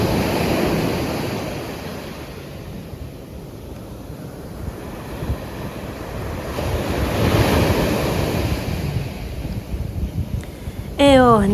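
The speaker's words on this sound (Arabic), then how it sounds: "خليتكم مع صوت الامواج" Sea waves washing onto the shore at the seaside town of M'diq, a loud continuous surf roar that swells and recedes, mixed with wind buffeting the microphone and a brief sound near the end.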